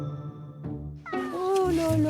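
A neighbourhood cat meows near bushes outdoors, a drawn-out, wavering meow rising after a brief lower murmur, close and fairly clear, with someone's voice faintly mixed in.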